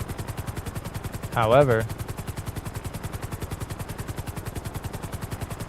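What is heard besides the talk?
stolen helicopter flying in the video game MetaWorld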